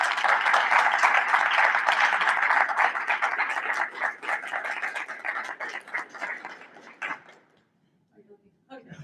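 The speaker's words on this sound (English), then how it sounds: "We'd like to give them a great round of applause" A crowd claps in a sustained burst of applause at a school board meeting honoring student performers, staying loud for several seconds before thinning into scattered claps and fading to near silence.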